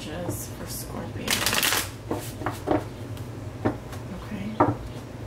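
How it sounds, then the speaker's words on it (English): Tarot cards being riffled and shuffled in several short bursts, soft papery flutters and taps recurring close by in a quiet room, with faint background noise between shuffles. "Sometimes the cards don't want to shuffle."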